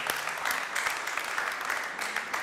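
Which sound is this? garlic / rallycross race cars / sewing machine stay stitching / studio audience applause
studio audience applause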